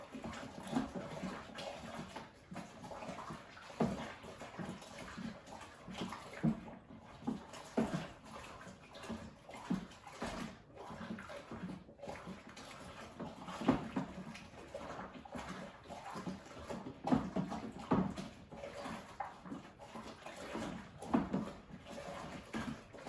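Homebrew beer kit mixture stirred with a sanitized spoon, giving soft, irregular sloshing and scraping strokes that repeat steadily at a moderate, close level with no talk.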